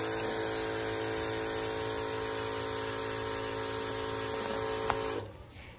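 An electric sprayer hisses and hums steadily for several seconds up close, then cuts off abruptly near the end, leaving quiet background.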